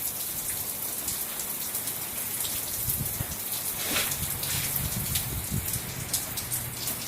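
Heavy monsoon rain pours down at a house, a steady dense hiss of drops drumming on surfaces that holds loud and unbroken throughout.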